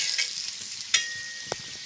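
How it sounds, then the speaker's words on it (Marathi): Masvadi frying in hot oil in a kadhai gives a soft, steady sizzle with a few brief crackles and light clinks, faint and with no voices. "हे पहा कढईमध्ये मी तेल ठेवलेलं आहे. ते चांगलं तापून घेतलेलं आहे आणि त्यामध्ये अशा वड्या सोडून घेतलेल्या आहेत"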